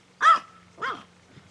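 A dog barks twice outdoors in a backyard, two close, clear yips about half a second apart, with a faint low hum underneath.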